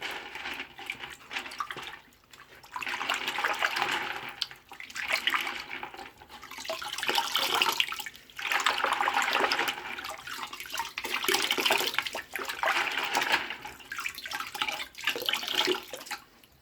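Aquarium internal filter fiber media being rinsed under running tap water, a steady splashing flow in several surges with brief pauses between, close and fairly loud, no talking.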